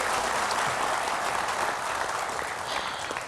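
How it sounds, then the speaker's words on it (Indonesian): Steady audience applause at a Jakarta talk-show event with a former governor, a dense wash of clapping from a seated crowd, fairly close and even throughout. "Tepuk tangan sekali lagi untuk Jui Purwoto."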